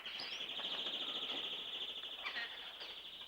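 A dense, steady chorus of chirping and calling birds, a parrot among other animals, fills the space continuously, loud and close, with sharper calls rising now and then.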